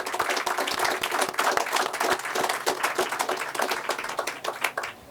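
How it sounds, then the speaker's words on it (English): Steady applause from a crowd, dense overlapping hand claps sustained for several seconds without voices. "you deserve a big round of applause for that particular thing"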